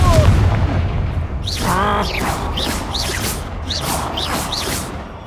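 Confringo fire spell blasts in Hogwarts Legacy combat, a run of sharp booming impacts with whooshing bursts repeating every half second or so over continuous game noise and music.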